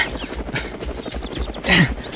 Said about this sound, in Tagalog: Bumaban ti helikopter.